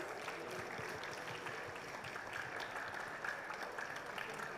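Audience applause at an edutainment stage talk, a steady wash of many hands clapping that holds evenly for several seconds without pause.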